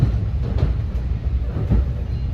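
An NJ Transit Morristown Line commuter train passes on nearby tracks. It makes a steady low rumble with faint rhythmic wheel clatter, heard close up from a moving train.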